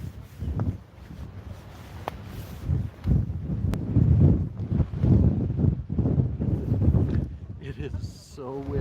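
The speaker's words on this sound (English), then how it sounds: "It is so windy." Strong wind sweeps across a Kilauea eruption site on Hawaii's Big Island, buffeting the microphone with loud, low rumbling gusts that rise and fall throughout, with people talking underneath.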